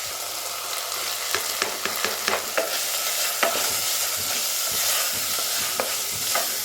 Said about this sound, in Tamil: மசாலாலாம் கரைஞ்சிடாமல் மீடியம் ஃப்ளேம்லேயே வச்சுட்டு வதக்கிக்கலாம்.